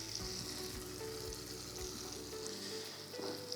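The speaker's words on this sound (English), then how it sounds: "So I've got my butter in the pot, in with onion and garlic" Butter, onion and garlic fry gently in a pot on fairly low heat, a soft, quiet sizzle with light crackle and a faint low rhythmic thump underneath.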